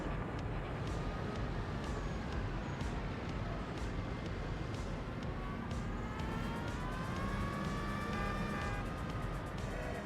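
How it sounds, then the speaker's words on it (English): Distant sirens wail over a steady hum of traffic and passing cars in a Siberian town in a video game, faint against the constant background noise. "New siren noises, excellent."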